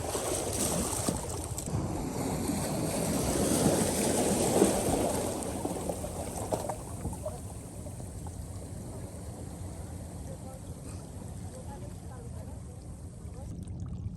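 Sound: roaring sea waves at Saint Martin's Island

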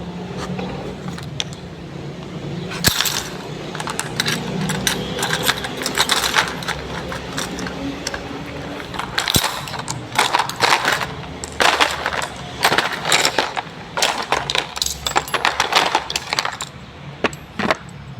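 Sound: metal objects like key, spoon, staples snapping onto magnet

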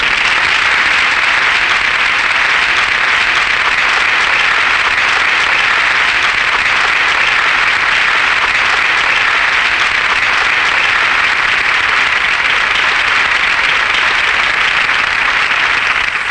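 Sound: audience applause welcoming a singer

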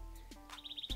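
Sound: small birds chirping

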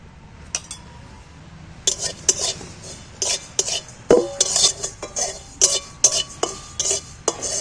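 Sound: whole cumin dry-roasted in a kadai

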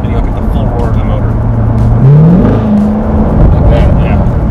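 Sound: 2015 Chevrolet Corvette Stingray engine roaring in sport mode

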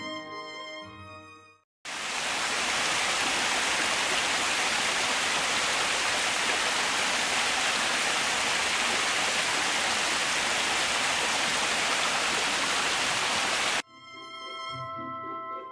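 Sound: waterfall near the Romon Falls

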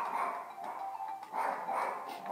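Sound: small dog

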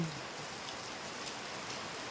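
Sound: rain

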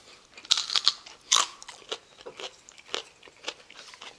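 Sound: eating spicy pig's feet, crunching and chewing

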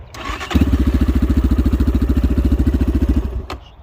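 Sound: Kovi Max 300 motorcycle engine starting

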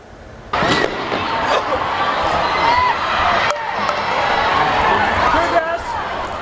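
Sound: crowd screaming and running from flash bangs

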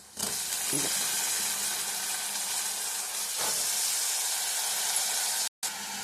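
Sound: cut ridge gourd frying in oil

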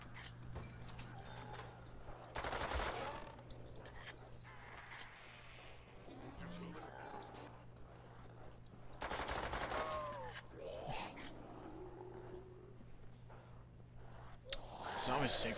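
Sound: fully automatic pistol gunfire in zombie video game

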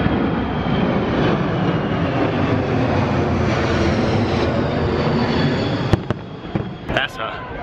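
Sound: large airplane flying over the raceway

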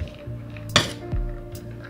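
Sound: spoon mixing boiled semolina with chaat masala

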